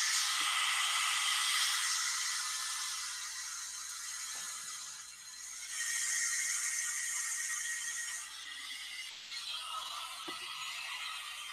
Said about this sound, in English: It's just an ordinary everyday hairdryer.